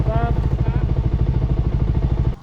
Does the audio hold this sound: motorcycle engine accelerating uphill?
yes